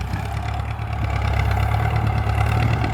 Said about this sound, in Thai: อันนี้ก็รอบเครื่องก็ไม่ได้หนักมากครับ เร่งเครื่องก็ไม่ได้ถึงขั้นแบบว่า ไปคชากมาก